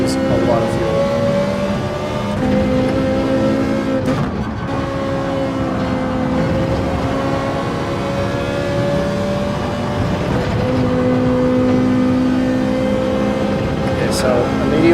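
A Ferrari race car engine in a VR racing game drones steadily with rising and falling revs through the whole stretch, loud and continuous while a person talks over it.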